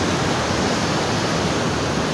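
Water rushes below a glass bridge in Mindanao, a loud, steady, unbroken roar of flowing water with no other sounds over it.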